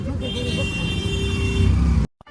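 An auto-rickshaw rides through busy traffic on the way to Barsana near Vrindavan, with a steady engine drone, road rumble and surrounding vehicle noise, and a faint horn toot. Voices can be heard, and the sound cuts off abruptly at the end.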